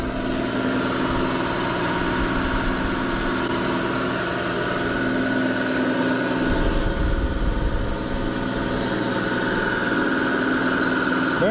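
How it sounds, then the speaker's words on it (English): An electric motor drives an old oil well pumping jack with rough bearings, giving a continuous droning hum with a steady mechanical whine that stays close and even throughout, with no one speaking. "Bearings in that motor sound kind of rough."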